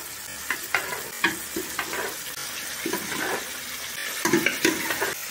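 Bathua and mustard greens saag goes into a hot tempering with tomato, sizzling and frying with repeated stirring and scraping, irregular bursts of crackle rising over a steady hiss.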